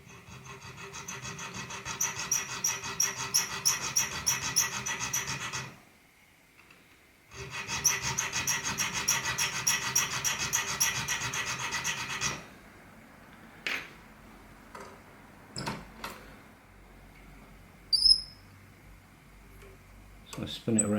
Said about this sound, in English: I'm going to make the first cut, try and get it straight across the center